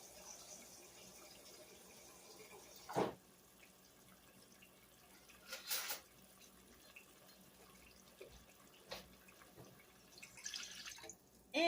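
Water poured into a pot holding a chuck roast, heard as a few brief, soft splashes and trickles against a quiet kitchen background.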